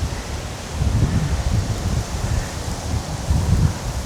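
Wind gusts steadily through trees and leaves in a churchyard, a broad rushing noise with rustling and some microphone buffeting, fairly loud throughout.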